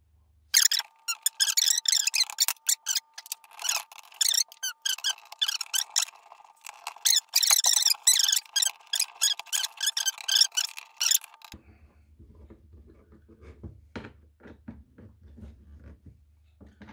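Coarse screws tighten into the plastic of a Thetford cassette toilet, making repeated squeaky, creaking bursts that run in quick irregular clusters for about eleven seconds. Quieter low thuds and handling noises follow.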